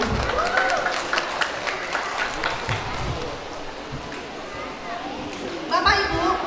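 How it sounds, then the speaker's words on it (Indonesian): Audience applause for children at a school graduation ceremony, steady clapping from a crowd indoors with voices and chatter mixed in throughout. "Kita beri tepuk tangan untuk anak-anak kita semua dulu."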